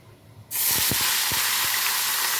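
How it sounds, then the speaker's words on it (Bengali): Mourola fish hit hot oil with a sudden loud hiss that settles into a steady, close frying sizzle, with a few soft knocks of the pan underneath. "তেল গরম হয়ে গেছে মাছগুলো আস্তে আস্তে ভেজে নেব"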